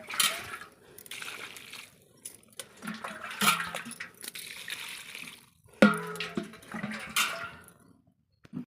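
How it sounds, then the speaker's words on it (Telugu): Water poured from a container onto garden soil to dissolve fertilizer, heard as several short splashing, gurgling bursts with quiet gaps between them, close by. "మందంతా కరిగే వరకు పోసేయాలండి. ఎక్కువ నీళ్లు పట్టేయాలండి."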